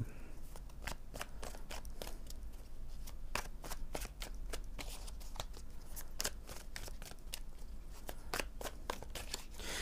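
Oracle cards being shuffled for a card reading, a steady run of quick crisp riffling flicks repeating close up with no talking.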